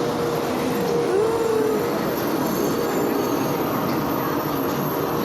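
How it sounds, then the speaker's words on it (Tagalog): Train ride aboard a Taiwanese bullet train, with a steady, loud rolling rumble of the carriage and a faint squeal of wheels on rail throughout, no voices. "Ah, bullet train!"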